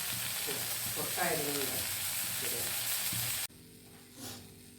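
Ivy gourd (kovakka) mezhukkupuratti stir-fry sizzles steadily in a pan, a continuous hissing fry broken by a voice speaking over it, then dropping to a quieter, softer sizzle near the end.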